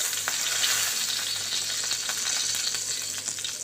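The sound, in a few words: spices frying in oil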